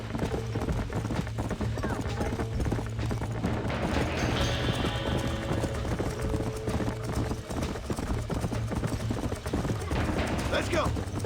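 Horse hooves clip-clop steadily beside a wagon in Red Dead Redemption, sounding continuously under a constant game soundscape with low rumbling, brief whinny-like tones and voices talking over it.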